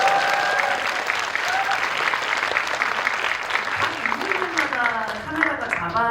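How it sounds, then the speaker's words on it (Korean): An audience bursts into sustained applause at a film screening event, a dense wash of clapping that carries on while a voice speaks over it near the end. "박수 한번"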